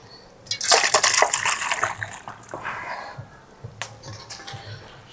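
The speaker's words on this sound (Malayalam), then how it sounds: "ഇവിടെ കപ്പ വെന്തു, നമുക്ക് ഊറ്റിയെടുക്കാമേ." Water from boiled cassava (kappa) is poured off and drained in a home kitchen, a splashing gush that rises sharply, trickles on for a few seconds and ends in scattered drips and light clatter.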